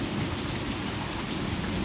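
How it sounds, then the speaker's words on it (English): Heavy rain pours steadily and loudly in a strong storm with pea-size hail, with a constant dense roar and low rumbling that suggests thunder, and no voices. "The rain is getting all over me right now."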